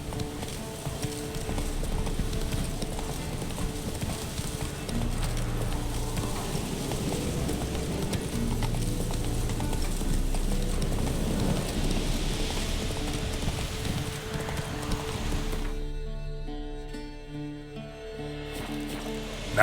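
Roach, a horse in the video game The Witcher 3, gallops with steady, rapid clip-clop hoofbeats under a continuous music and ambient bed, close and constant before dropping away near the end.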